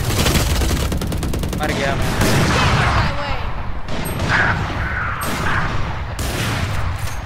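Rapid gunfire and explosive shots in the Valorant video game, loud and dense bursts throughout with brief pauses, while a player speaks over it.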